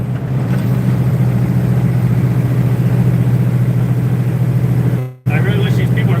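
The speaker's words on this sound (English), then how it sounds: "I know this truck does not sound as nice as, like, you know, a W900 with open stacks on it." An owner-operator's semi-truck cruising on a highway behind slow traffic gives a steady, loud low engine drone inside the cab that holds unbroken apart from a brief dropout near the end.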